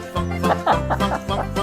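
Chickens clucking in a quick, busy run of short calls, close and fairly loud over a steady low background hum, no talking.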